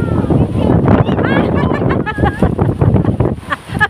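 Strong wind buffeting the microphone outdoors on a rainy day, with loud, gusty rumbling throughout and people talking and laughing over it.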